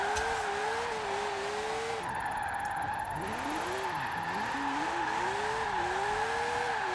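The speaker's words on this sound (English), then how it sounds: "this high revving engine just makes it so much more enjoyable as well" A racing car engine in Forza Horizon 4 revs high and whines, pitch sweeping up and down through gear changes, with a thin electronic tone above.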